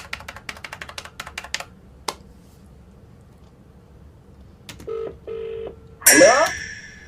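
A telephone number is dialed: a quick run of keypad clicks, then two steady beeping dial tones, then a rising electronic tone as the call connects.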